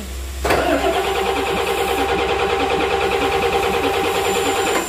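A rebuilt Komatsu S6D125 diesel engine cranks and fires after a general overhaul, catching at once and settling into a loud, steady, rhythmic mid-pitched idle that runs throughout without speech.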